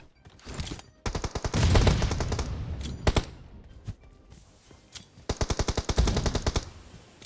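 Automatic gunfire in the mobile battle-royale game PUBG Mobile comes in rapid, sharp bursts, with several strings of quick shots separated by short pauses and scattered single cracks, heard close and without talk.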